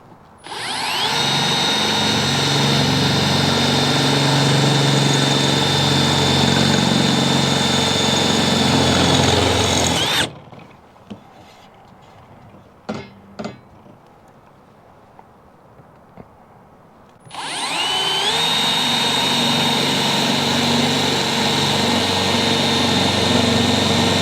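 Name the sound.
drilling with KnKut industrial drill bit, oiled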